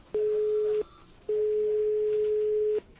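A telephone line gives a steady electronic tone after a call is hung up during a prank call: two flat beeps, the first short and the second much longer, separated by a brief gap, fairly clear and alone.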